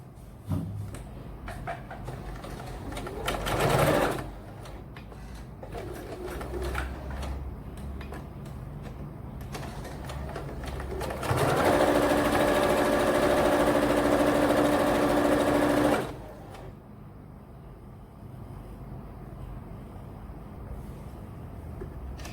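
A sewing machine stitches a fabric basket, with a steady loud mechanical whir for a few seconds in the middle, set between quieter handling noises and pauses.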